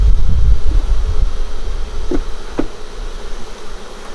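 Honey bees buzz steadily around a nuc being installed into a hive, a dense continuous hum close by with a couple of faint knocks partway through, and no voices.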